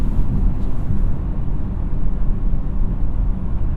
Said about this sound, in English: Sound of the 4-cylinder is pretty good.